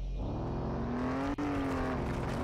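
A car engine hums steadily while driving in a video game, its tone rising slightly then easing back, loud and continuous throughout.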